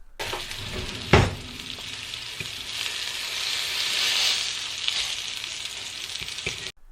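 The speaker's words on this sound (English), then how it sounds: "I had to leave the sizzle in there." Steady sizzling of chicken browning in a hot pan with olive oil, with a sharp clatter near the start and faint stirring scrapes.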